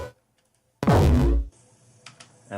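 A short, dense burst of sci-fi weapon energy in Warframe, an implosion before the final explosion: a low rumbling whoosh that swells and cuts off abruptly, followed by faint crackles and a soft hiss.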